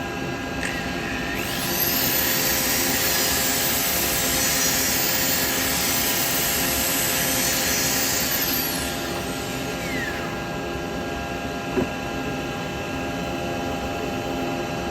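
A steady hum of a spinning wood lathe with a broad hissing rasp of 240-grit sandpaper against turning wood for several seconds, then the machine alone.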